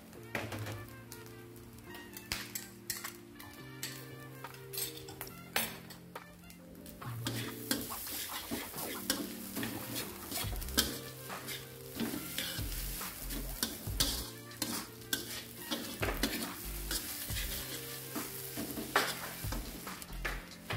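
Choy po (preserved radish) and fried garlic being stir-fried in a hot pan while making Pontianak-style talam ebi, with steady sizzling and frequent scraping, tapping stirs of a utensil against the pan throughout, no talk.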